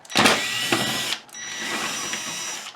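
A power screwdriver whirs in two short loud bursts, removing two screws from a bracket inside a 1992 Admiral VCR built by Sharp, heard close and with no voices.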